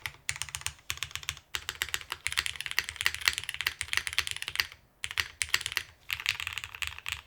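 Rapid clacking keystrokes on a custom Fragment TKL mechanical keyboard, close and crisp, arriving in bursts separated by brief pauses, one near the five-second mark.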